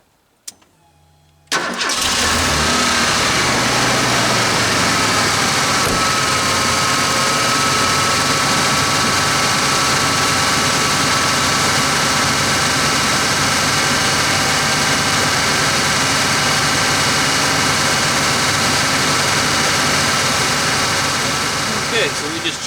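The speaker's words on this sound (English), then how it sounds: "Start it up." A car engine cranks and catches after an oil change, just after the car comes off the ramps, then settles into a steady, loud idle that runs on close by.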